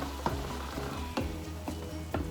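Chicken cacciatore with mushrooms, jalapeno and freshly added crushed tomatoes sizzles steadily in the pan, while a spoon scrapes through it roughly once a second, close and moderately quiet.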